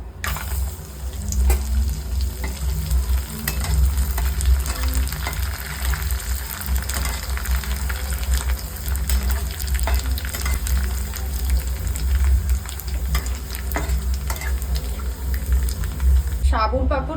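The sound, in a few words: sago papad frying in oil in a wok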